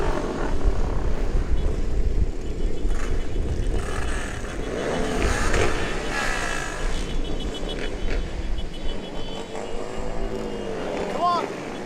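Motorcycles rev their engines at a Sydney Santa charity ride for Bear Cottage, a steady rumbling roar with surging swells, while people shout and talk close by.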